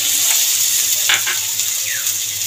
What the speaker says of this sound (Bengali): এবার আমি আগে থেকে ভাজা আলু দিয়ে দিলাম।